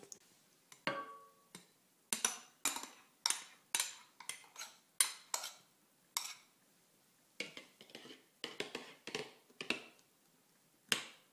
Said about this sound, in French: Nous mélangeons les blancs en neige avec notre mélange.